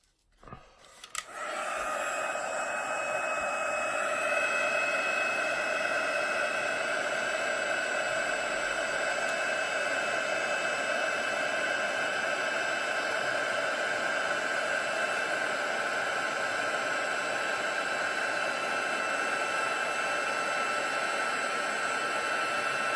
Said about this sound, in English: so sorry for the noise, just going to emboss this one.